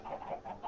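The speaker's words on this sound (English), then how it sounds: "My chicken farm." Chickens cluck in a farm pen in the video game Minecraft. There are several soft, quiet clucks in quick succession, with no talking.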